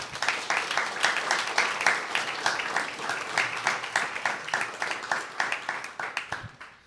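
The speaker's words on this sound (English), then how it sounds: "Please give Tim a huge round of applause." Audience in Kyiv giving a round of applause at a talk, dense rhythmic clapping from a crowd that thins into scattered individual claps near the end.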